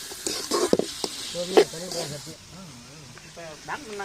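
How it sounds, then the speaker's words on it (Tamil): Onions and tomatoes sauté in a pan for a village-style fish curry, giving a steady sizzle with stirring scrapes that stays loud at first, then softens beneath a talking voice. "இந்த வெங்காயம் தக்காளி வந்து நல்லா கூழ் மாரி வர அளவுக்கு நல்லா வதக்கிக்கணும்"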